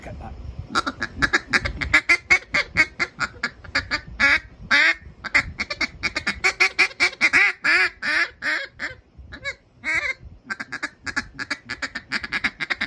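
A hand-blown duck call mimics ducks feeding on rice or beans, a fast, close, chattering run of short quacking clucks in an uneven rhythm, sounding alone with no talk.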